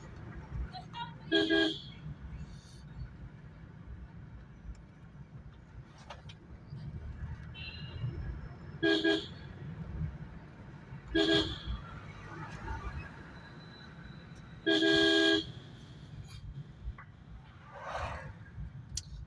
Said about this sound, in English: Sorry if I blow horn too much